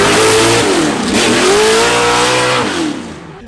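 Big block V8 in a drift car revving hard and loud, the engine note climbing, dipping and climbing again in sustained rough pulls before easing off at the end, with no voices.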